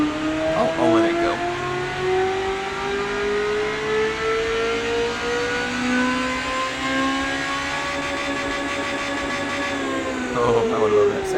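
A simulated car engine in the Automation game, a 2008-era build with a flat torque curve, revs in a long, steady climb, its pitch rising smoothly for about eleven seconds and ending with a brief shift near the end.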